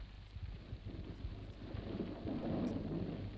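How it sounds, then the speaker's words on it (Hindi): Steady rain falls with low rumbling thunder that swells louder toward the end, continuous and enveloping, with no voices. "बारिश हो रही है और अभी लाश यहीं पड़ी है।"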